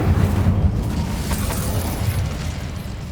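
The Incendio fire spell cast in Hogwarts Legacy erupts in a dense, roaring burst of flame with a heavy low rumble and crackle that slowly tapers off.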